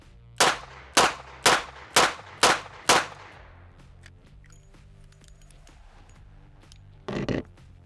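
Five evenly spaced shots from a 25-ounce snub nose revolver, loud and sharp with ringing decay, followed by quieter handling clicks and a brief rattling burst near the end; no speech.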